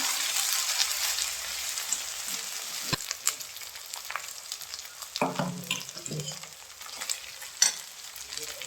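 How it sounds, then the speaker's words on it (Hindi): Ginger-garlic paste sautés in a hot pan, producing a close, crackling sizzle that runs throughout, broken by stirring scrapes, a few sharp clicks of a spoon against the pan, and bursts of louder spattering. "मैं इसमें डालती हूँ ये अदरक और लहसुन का पेस्ट। और ये डालने के बाद में 1 मिनट के लिए दोबारा से भूनेंगे"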